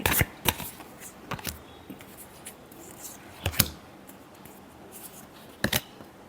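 Tarot cards being shuffled by hand: irregular crisp riffles and slaps in short bursts with quiet gaps between, close and dry, no talking over them.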